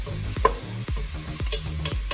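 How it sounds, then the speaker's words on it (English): Garlic frying in a pan over high heat, a steady sizzle broken by several clinking stirs and scrapes of the utensil at close range, with no talking. "so you put the garlic in it, make it a little brown."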